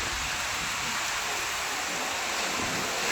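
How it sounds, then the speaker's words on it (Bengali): Dense, steady roar of heavy rain in a storm, loud and unbroken throughout, like a downpour pounding close by. "এবার সেরা বৃষ্টি হচ্ছে মনে হচ্ছে আজকে"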